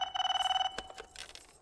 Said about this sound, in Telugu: ఫోన్ తీయాలిగా మాట్లాడాలంటేని